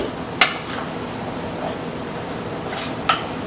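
A spoon clinks twice against a cooking pot of chili as it is mixed, two brief metallic knocks over a low steady background hum.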